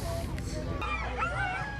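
Iditarod sled dogs bark, yip and whine near the start line in Willow, a close chorus of overlapping excited calls with a voice briefly under them.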